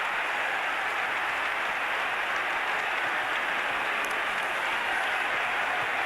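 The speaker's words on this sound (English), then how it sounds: "were booed off the field" Football crowd booing a team off the field at a 1988 English First Division match, a steady, dense roar of massed voices with no clear break across the stretch.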